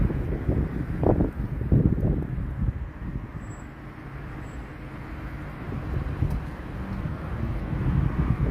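Steady outdoor wind buffets the microphone at a street protest, a continuous low rumbling roar that swells and eases throughout.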